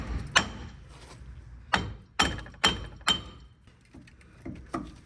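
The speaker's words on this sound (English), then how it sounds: "First thing I'm going to do is just hit the hub itself with a hammer." Sharp metallic hammer blows strike the wheel hub of a Ford Ranger during a front wheel bearing hub replacement, about seven separate hits in an uneven rhythm with clinking ring-off, close and loud.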